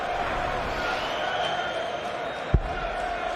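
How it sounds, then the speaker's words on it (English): Dense crowd roar and cheering fills a darts arena at Alexandra Palace during the World Darts Championship, a steady wash of voices with one sharp thud late on. "Listen to that crowd."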